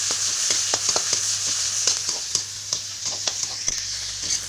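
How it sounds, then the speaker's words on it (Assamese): Onions fry in hot oil with a loud, continuous hiss and crackle, broken by a few light spatula taps, heard up close with no voices. "তেলটো গৰম হৈ গ'ল এতিয়া এইখিনি মই পিঁয়াজ দিছোঁ"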